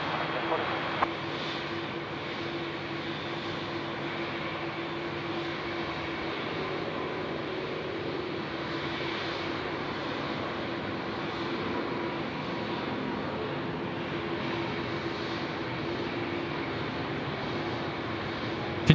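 Singapore Airlines flight 242 landing on runway 34 left at Sydney Airport at night, heard as a steady, distant broadband jet roar that holds evenly throughout, with faint voices in the background.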